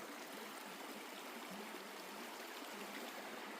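A clear river flows through forested tiger territory at dusk, making a steady, even rush of water that is soft and continuous with no voices.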